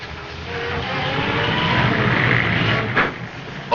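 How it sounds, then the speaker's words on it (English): A heavy vehicle rumbles steadily nearby in a tense 1950s crime-drama scene, a dense, continuous mechanical roar with a brief louder thump near the end, no talk over it. "That's the truck."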